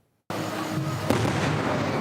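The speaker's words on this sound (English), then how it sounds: "For some, fireworks are a spectacle." After brief silence, a dense crackling roar of fireworks sets in, with a sharp bang about a second later and continuous popping and rumble.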